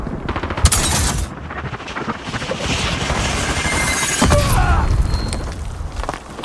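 Rapid gunfire and booming shots in a shooter video game, dense bursts running nearly the whole time with a heavier blast partway through, loud and close.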